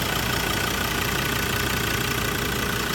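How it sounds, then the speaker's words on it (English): A 2016 Ford Everest SUV engine idles steadily, a dense continuous rumble with a faint ticking knock, close and unchanging throughout, with no talking. "As you can hear and probably see, it does have an engine and it does work"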